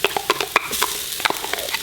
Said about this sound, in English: Fry that tomato paste and get a little bit of caramelization out